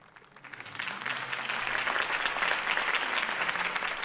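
A crowd in the video game Batman: The Telltale Series bursts into applause that swells quickly from quiet and then holds as dense, sustained clapping.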